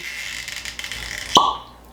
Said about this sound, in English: But let's do a uncorking.